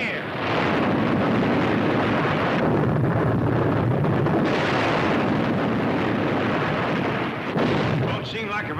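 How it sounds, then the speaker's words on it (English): Underwater explosions hurling water into the air, a continuous loud roaring rush of churning spray and blasts lasting several seconds, with a brief dip before the roar resumes. "Look at them explosions throw that water in the air."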